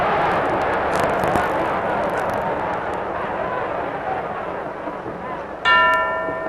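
A boxing bell rings once to end a round in a Georges Carpentier versus Neal fight, a bright clang near the end that cuts through a constant roar of crowd noise.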